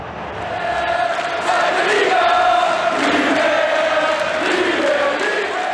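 Bundesliga football fans in a stadium at the end of the 2001/2002 season roar in a dense, sustained wall of cheering that swells slightly midway and holds steady throughout.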